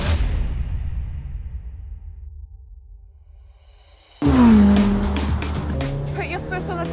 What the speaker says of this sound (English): foot on the throttle and bang, the car just roars down the road.